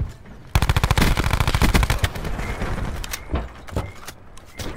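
A fast automatic burst from a 30-round gun in the game Control, loud and close, starting abruptly and then thinning into scattered single shots and clanks, with no voices.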